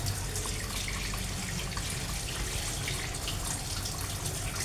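Tap water runs steadily over a pompano fish being washed clean of blood at a sink, a constant close splashing flow without speech.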